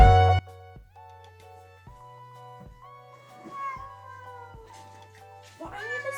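A cat meows several times, drawn-out, wavering cries rising near the end, close by over a steady rhythmic thumping background with no talk.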